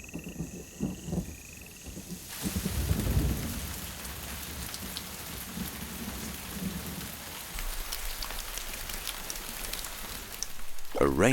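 Rain falling outdoors in the wild, a dense steady hiss of raindrops hitting surfaces after a brief quieter opening, with low rumbles and patter continuing throughout.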